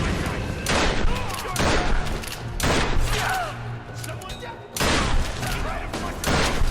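Shotgun blasts in the Tomb Raider video game, several sharp booming shots spaced a second or so apart, loud and close, with a voice speaking between and under them.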